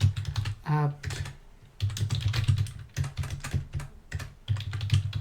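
Clicky computer keyboard typing out a Linux terminal command in Ubuntu on VirtualBox, several bursts of quick keystrokes separated by short pauses, with a brief spoken word in a gap.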